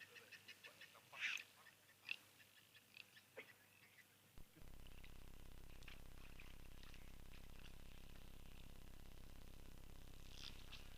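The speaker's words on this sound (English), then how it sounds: "A couple of guinea fowl I can hear every now and then." Guinea fowl call at a waterhole, a few faint distant cackles early on before a steady wash of outdoor background noise takes over.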